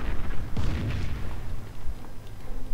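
Artillery fire and rocket barrages pounding the ground in a strategy video game match, heard as a dense series of booming impacts and bursts crowding together near the start, then a lingering rumble with a few scattered later blasts.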